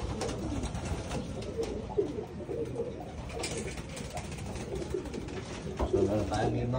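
Pigeons coo repeatedly in soft, rolling calls at an arrival point, several birds overlapping in a steady busy murmur, with faint background voices and rustling throughout.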